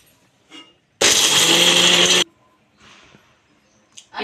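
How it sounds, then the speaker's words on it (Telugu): A mixer grinder whirs loudly as it grinds fried cashews and almonds into paste, one steady high-pitched motor burst of just over a second, set between quieter kitchen handling sounds. "వేయించుకొని చల్లారిన తర్వాత మనం మిక్సీలో వేసుకోవాలి."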